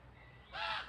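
A single hoarse caw from a crow, short and fairly close, over a quiet background.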